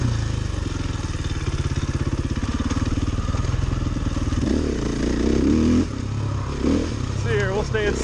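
KTM 300 XCW and 450 XCW dirt bikes ride at Carnegie with a loud, close engine drone that pulses rhythmically, then rises and revs sharply, while people talk over it.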